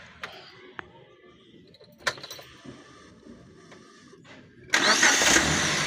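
A gasoline engine that had been mistakenly filled with diesel: a few quiet clicks and creaks, then it fires on one try and settles into a loud, steady idle nearby.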